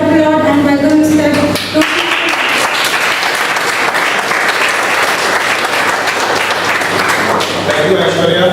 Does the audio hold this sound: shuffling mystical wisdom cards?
no